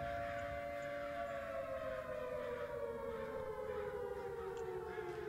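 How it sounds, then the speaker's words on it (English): An air raid siren in the video game Summer of '58 wails steadily, its pitch slowly sliding downward, fairly faint and distant, with no other sounds over it. "why is an air raid siren going off?"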